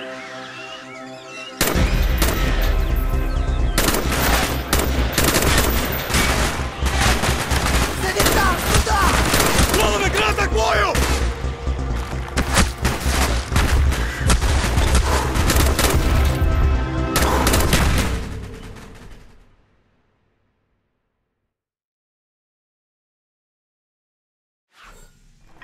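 Dense, loud sustained gunfire from a helicopter attack on Russian troops in Call of Duty Black Ops, heavy rapid bursts and booms for about sixteen seconds, then fading to silence.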